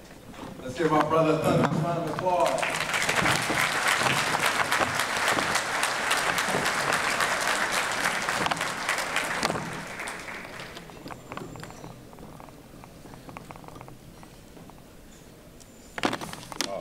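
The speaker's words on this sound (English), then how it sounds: "Let's give our brother a thunderous round of applause again." A room full of people at a men's breakfast meeting breaks into loud, sustained applause for several seconds, fading into scattered claps as a voice speaks over the tail end.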